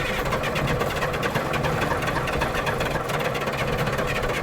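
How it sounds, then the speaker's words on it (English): A worn, tired-running engine idling, a steady rough mechanical rumble with faint knocking that carries on continuously at moderate loudness with no talk over it. "That engine sounds so tired."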